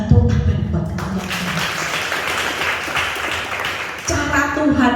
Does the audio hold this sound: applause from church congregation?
yes